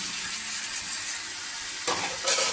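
Boiled potatoes drop into a pan of sizzling spice paste for an egg curry, a steady close frying hiss that surges into louder bursts of sizzle as they land and are stirred.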